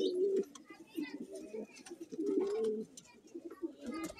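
Pigeons on a rooftop coo close by in repeated soft, throaty phrases, with a few quiet voices and faint rustling in the background.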